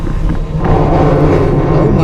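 Lexus SC400 drift car driving, a loud, low engine rumble and drone from inside the cabin with wind buffeting, steady throughout.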